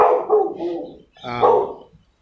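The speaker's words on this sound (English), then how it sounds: "these dogs next door are just annoying." Two bursts of loud barking from neighbouring dogs, fairly close, the second bark more drawn out, with no voices.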